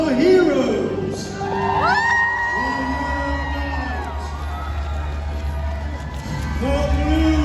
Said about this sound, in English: raise a cheer for all of our heroes!